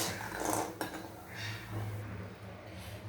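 Fried bori are scooped out of a pan, with metal utensil scrapes and clinks against the cookware, close and moderately loud in short bursts.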